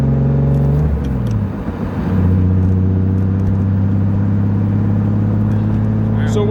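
A BMW E36 with a turbocharged M52 engine and billet pistons drives along, its engine humming loud and steady, with a brief dip and shift early before a low, even cruise.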